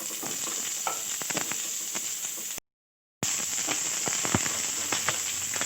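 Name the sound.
cauliflower sautéing in light oil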